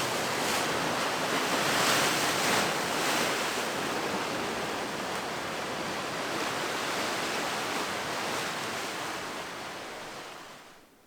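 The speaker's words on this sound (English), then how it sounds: "I feel like I could just stare at these waves for hours and hours." Steady ocean surf washes onto a remote Vancouver Island shore, a loud, continuous broadband roar with gentle swells and some wind, fading out at the end; no voices.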